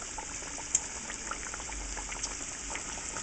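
French fries bubble in hot frying oil: a constant bright, hissing fizz with scattered small pops and crackles, fairly quiet and close, with no voices.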